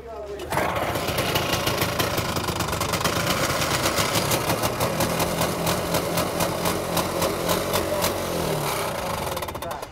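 A Yamaha snowmobile at a race in Eganville fires up after a brief pause and then runs steadily, a close, loud, buzzing engine drone that holds for the rest of the clip.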